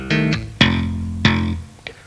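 Bass guitar tapping phrase, a few sustained tapped notes cut to a muted sound, then two quick thumb slaps on F; close, clear and solo with no talking.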